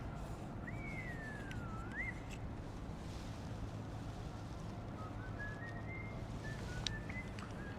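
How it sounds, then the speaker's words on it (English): A man whistles a few short, wandering notes while walking at a moderate distance on a street in Akabane, Tokyo, over steady outdoor wind noise, with a pause between phrases. "just whistling like he's about to commit a crime."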